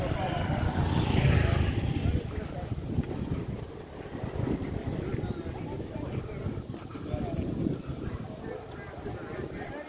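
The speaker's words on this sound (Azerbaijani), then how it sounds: "Hava istidir, amma biraz da külək var," Steady wind buffets the microphone outdoors on a warm, breezy day, a continuous low rushing roar near and fairly loud throughout, with faint voices underneath.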